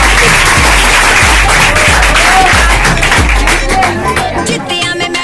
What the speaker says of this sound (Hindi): 82 नंबर ताली बजा दो